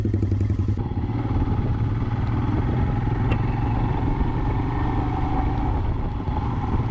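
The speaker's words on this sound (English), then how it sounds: "I am going to ride this famous Royal Enfield Himalayan" A Royal Enfield Himalayan motorcycle rides along with a steady, close engine rumble and wind noise, plus a few faint clattering ticks.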